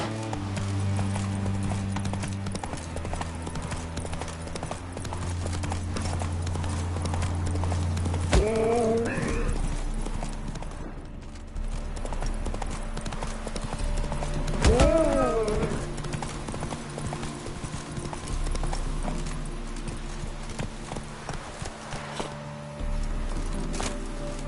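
The horse Roach clip-clops along steadily in The Witcher 3, with a close, rhythmic patter of hooves, a couple of whinnies, and faint background game ambience.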